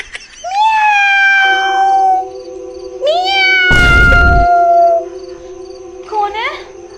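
A cat meows repeatedly indoors at night in a rural home, loud drawn-out cries in three bursts with a steady background hum and a brief thumping noise between them.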